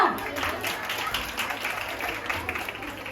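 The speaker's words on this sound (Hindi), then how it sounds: "तालियां।" A crowd at a society stage program applauds after a play performance: steady, moderately loud clapping with murmuring voices mixed in throughout.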